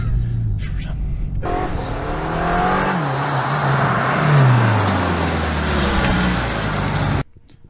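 A BMW XM V8 hybrid drives on winding roads, its engine note rising and falling steadily through the revs, loud and close, with speech heard over it before it cuts off abruptly.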